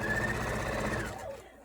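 Sewing machine stitching quilt pieces together, a fast mechanical whirring hum close by that runs steadily and then winds down and stops near the end.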